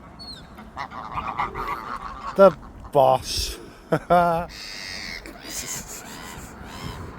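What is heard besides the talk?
birds by a canal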